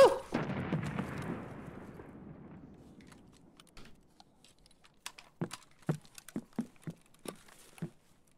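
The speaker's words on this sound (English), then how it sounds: "Just threw a nade at me." A grenade explosion in the video game Escape from Tarkov: a loud blast opens, then a rumbling decay fades over several seconds, followed by a scattered series of sharp, nearer gunshots.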